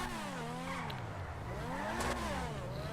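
The Progen PR4 F1 race car engine in GTA Online revs up and down in repeated wavering pitch sweeps, loud and continuous, with no talking.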